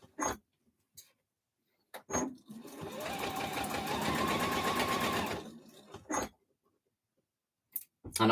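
A sewing machine stitches quilt fabric in a steady whirring run of about three seconds, close and clear, bracketed by short clicks and handling noises in an otherwise quiet room.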